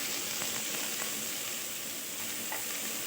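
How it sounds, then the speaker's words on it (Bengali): Finely chopped potato and long beans fry in a pan for poha pulao, a constant even hiss of sizzling oil with a few light clicks of stirring, close and unbroken, without speech. "আমি চাপা দিয়ে 5 মিনিট ধরে খুব সুন্দর করে ভেজে নিয়েছি"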